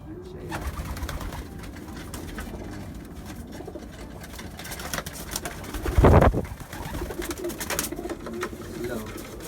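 Pigeons cooing in a bird loft in Virginia Beach, soft low coos repeating under Tagalog talk, with a brief burst of wing flapping in the middle.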